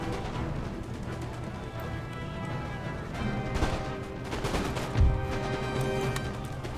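Musket fire in Empire: Total War, scattered volleys and individual shots crackling over a continuous layer of battle ambience and game music, with one heavier thump near the end.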